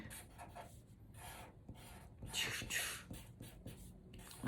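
Pen or pencil drawing on paper, a series of soft scratchy strokes and rubs in uneven bursts, close and quiet.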